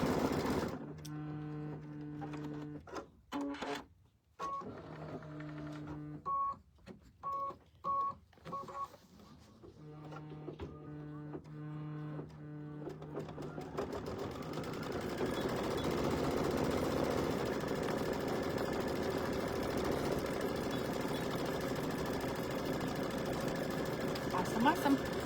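An embroidery machine stitching the bottom part of a mug rug runs in short rhythmic bursts of rapid mechanical chatter with pauses, then settles into a steady, continuous whirring hum for the rest of the stretch.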